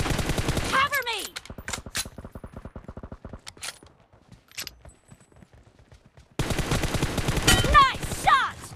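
Machine gun fire from a team-based shooter video game, with rapid bursts of automatic shots up close at the start and end and a quieter stretch of rhythmic firing in between, with voices mixed in.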